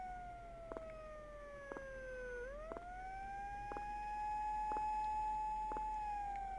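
A police siren wails in the horror video game Tsugunohi, a steady, faint, sweeping tone that dips and climbs again, with soft regular ticks beneath it.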